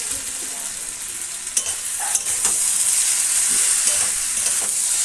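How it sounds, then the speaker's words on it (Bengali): Green jackfruit curry frying in a pan, a bright continuous sizzle with occasional spoon clinks and stirring scrapes, close by and fairly loud. "এই যে এঁচোর তরকারি আমি কষছি এখন"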